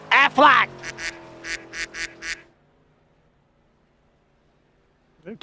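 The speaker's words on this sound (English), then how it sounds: "Cue the duck." Duck quacking sound effect played at a race broadcast: a couple of loud nasal quacks followed by a rapid run of shorter quacks, then silence.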